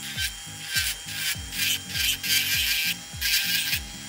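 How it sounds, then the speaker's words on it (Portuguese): An electric nail file grinds across a gel nail extension in a steady series of short rasping strokes, close and moderately loud with a rhythmic back-and-forth pattern. "Com a lixa elétrica,"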